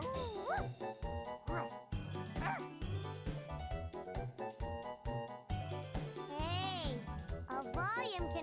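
Cartoon puppies bark and yip in quick bursts in a video game, with high whimpering whines mixed in, over a continuous musical backing.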